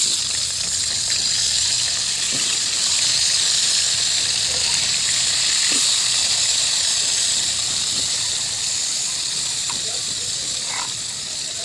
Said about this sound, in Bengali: এই তেলের মধ্যে আমি বাঁধাকপি ভাজবো বাঁধাকপিটা আলুটা ভেজে নেবো এই তেলে